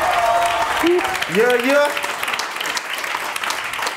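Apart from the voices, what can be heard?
applause for Sammy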